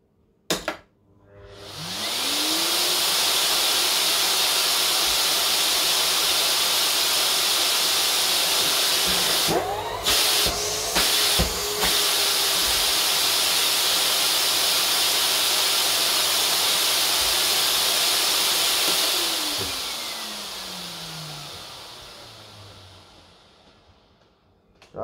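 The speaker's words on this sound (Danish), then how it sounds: "Vi tager en støvsuger og smækker i." A roughly 1000-watt vacuum cleaner running from a portable power station spins up, roars at a steady, loud hiss for about seventeen seconds with a few brief clicks, then winds down and fades.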